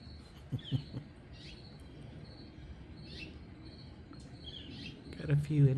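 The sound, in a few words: bird chirps outdoors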